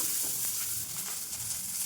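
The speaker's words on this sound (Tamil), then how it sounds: "பொடி பொடியாக நறுக்கி வச்ச வெங்காயத்தை போடணும்." Chopped onions frying in a pan for a home-style soya bean curry, giving a steady, close broadband sizzle that holds evenly throughout with faint stirring scrapes.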